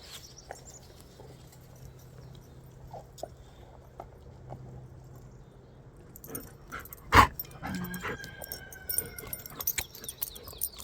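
Dogs move around outdoors near someone picking dandelions, with soft scattered patter and light thumps, then a sharp bark-like burst and quick busy scuffling as they play and wait for the ball.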